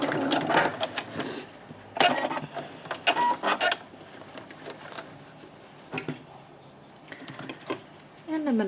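A sewing machine makes short, clattering stitching bursts, going forward and back while finishing a fabric scrunchie, with someone talking intermittently over and between the runs, close by.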